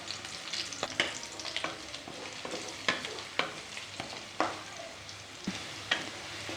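Diced potatoes fry in ghee in a non-stick pan for sabudana khichdi, a steady soft sizzle broken by repeated scraping stirs at an even pace, close by with no talk.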